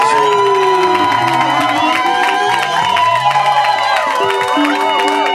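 Wedding guests cheer and shout in a loud, continuous crowd roar at a ceremony, with whoops and excited voices layered over music-like tones throughout.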